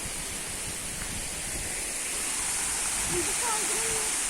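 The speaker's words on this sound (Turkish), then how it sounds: "Bir de şelalemiz var. Yapay ama güzel yani." Steady rushing water from a small artificial waterfall in a park, a continuous broadband splash that holds even throughout.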